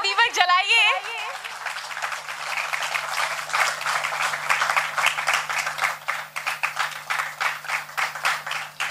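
An audience at a ceremonial lamp-lighting breaks into sustained, dense applause that builds and then thins into scattered claps, following a brief announcement over a hall loudspeaker.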